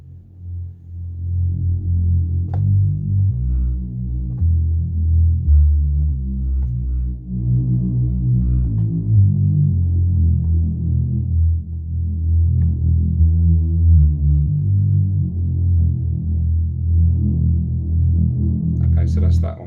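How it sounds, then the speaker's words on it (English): Old school Hoover rave patch played on an Arturia MicroFreak synthesizer, a thick, low, detuned buzzing tone sliding through a looping riff, loud and sustained with no voices. "I was looking for an old school Hoover sound"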